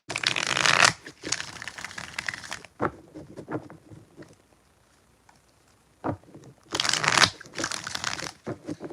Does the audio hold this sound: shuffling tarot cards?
yes